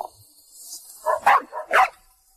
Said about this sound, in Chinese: 一条土狗？